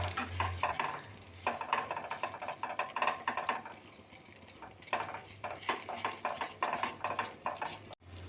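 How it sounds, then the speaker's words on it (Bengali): Thick modak mixture being stirred continuously in a pan, with repeated soft scraping and clinking strokes against the pan in bursts, close by and fairly quiet, over a faint cooking hiss. "যত শেষের দিকে এসে যাবে অনবরত নাড়তে হবে, নাহলে তলায় বসে যাবে"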